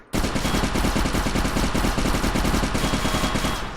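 A turret in the video game Fallout Equestria Remains fires a continuous, loud, rapid stream of shots with a steady machine-gun rhythm, close and unbroken for nearly four seconds.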